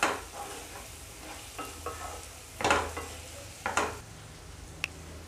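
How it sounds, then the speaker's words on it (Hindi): Boiled sweet corn stir-fried in a pan for stuffed capsicums, giving a soft steady sizzle broken by several scraping stirs of the spatula, with one sharp little tick near the end. "ये स्वीट कॉर्न मैंने थोड़ा बॉईल करके डाला है, अब थोड़ा भून लेंगे।"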